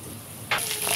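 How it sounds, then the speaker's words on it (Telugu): Mustard seeds and curry leaves drop into hot oil in a pan: a quiet moment gives way halfway through to a sudden, close, bright sizzling hiss that keeps going to the end. "ఆయిల్ హీట్ అయ్యాక మనం పోపు గింజలు కరివేపాకు యాడ్ చేసుకోవాలి"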